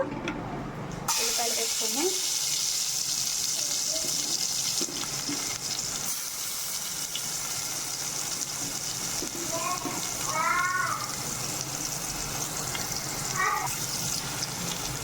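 Onions frying in hot oil in a pan, a broad continuous sizzling hiss that starts abruptly and holds steady, with a voice speaking briefly over it.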